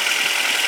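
A 2011 Ford Fusion's 2.5-liter inline-4 engine idles in a steady, even hum, close by and continuous with no talking.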